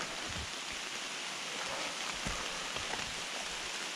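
Steady, heavy rain pours down in a dense, continuous hiss, with occasional louder drops and splashes close by.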